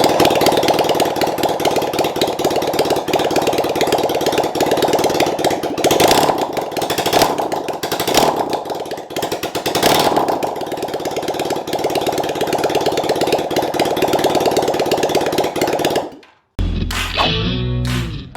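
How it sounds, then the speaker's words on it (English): A Honda CM450 motorcycle engine with its headers and exhaust removed runs at a loud, harsh, continuous idle with raw popping pulses. It cuts off abruptly near the end, followed by a brief clattering sound. "I did the first start, which you saw without the headers, and then idled and revved actually pretty decently."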